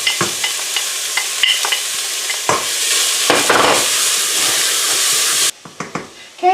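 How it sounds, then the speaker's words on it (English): Ground beef searing in a pot for chilli: a loud, continuous sizzle and hiss up close, with spoon scrapes and stirring knocks, then the sizzle drops away and only a few clatters remain. "Throw in your ground beef."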